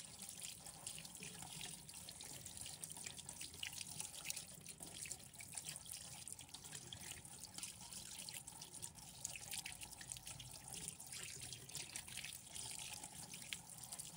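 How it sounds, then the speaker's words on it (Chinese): Running tap water rinsing food in a kitchen sink, a steady, soft splashing stream that continues without a break and sounds fairly faint. "再用流动水清洗，把表面杂物清洗干净"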